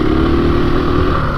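Loud, steady engine drone from a 2021 KTM 500 EXC-F Six Days dirt bike being ridden, holding a continuous, close-up rumble for the whole moment with slight fluctuations in throttle.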